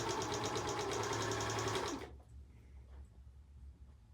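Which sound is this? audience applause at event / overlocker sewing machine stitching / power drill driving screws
overlocker sewing machine stitching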